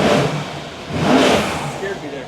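Mercedes S63 AMG twin-turbo engine revving in sport mode, a broad rising surge of engine noise that swells near the middle and eases back, close and fairly loud, with voices in the background.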